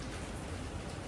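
Heavy rain pours down on a stormy day, a dense, steady hiss filling the whole brief moment with no other sounds.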